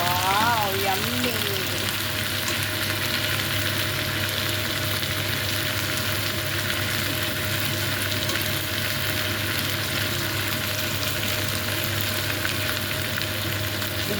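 Mushrooms fry in a pan with a steady, dense sizzle and crackle that holds level throughout, close and continuous, with a brief voice near the start.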